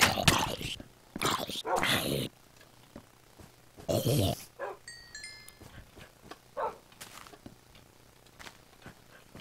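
A video game dog gives several short barks, yips and whimpers in irregular bursts, mixed with a voice.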